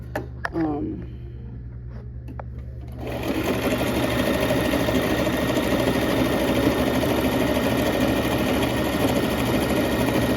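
A sewing machine stitches fringe onto previously sewn fabric. After about three seconds of quiet handling noises it starts up and runs in a loud, steady, continuous whir to the end.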